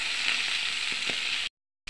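Fish frying crisp in hot oil, a steady close sizzle with a few faint clicks, cutting off abruptly near the end.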